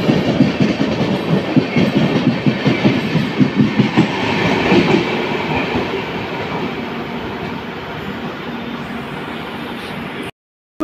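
The Okha Dwarka Express with LHB coaches runs past at speed, loud and close. Rapid rhythmic wheel clatter over rail joints fades into a steadier rumble, then cuts out abruptly near the end.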